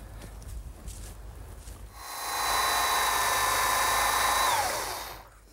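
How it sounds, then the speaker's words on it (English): A handheld power drill bores a hole into the vertical member of a wooden garden swing, whining loudly at a steady pitch for about three seconds before winding down. "and I want to drill those next"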